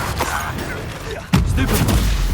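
A Confringo blasting spell goes off in Hogwarts Legacy: one sudden booming burst cuts in partway through and is followed by a sustained loud rumble, over an ongoing noisy battle bed.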